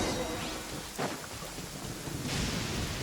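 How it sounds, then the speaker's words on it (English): Thunderstorm in the game Genshin Impact, with steady heavy rain and rolling thunder that swells near the start and again toward the end, with no voices. "Uh-oh! Lightning storm!"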